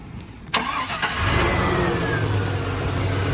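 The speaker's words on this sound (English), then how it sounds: "let's turn on the engine, because now I got the keys." A 1999 Chevrolet Silverado pickup engine with 190,000 miles cranks briefly after a click, catches, and settles into a steady, rumbling idle, close and loud, with no misfires.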